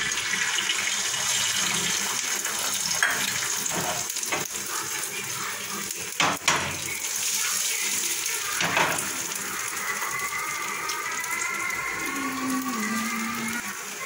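An egg dropped into hot oil in a pan gives a continuous hissing sizzle with scattered clatters and pops, and a thin rising whine near the end.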